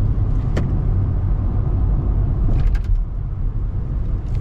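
A 2023 Kia Rio S sedan driving through turns, recorded inside the cabin, with a loud steady low engine and road drone and a few faint clicks and taps on top.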